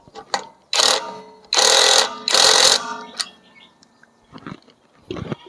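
An OSUKA OSID-520 cordless impact wrench loosening a bolt: loud hammering bursts, two long and one shorter, heard close up among clicks and short mechanical whirs.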